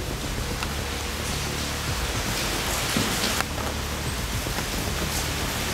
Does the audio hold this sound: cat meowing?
no